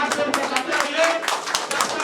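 A crowd at an outdoor political gathering honouring Dr. Shri Krishna Singh claps in loose, uneven bursts, with a speaker's voice carrying over and between the claps.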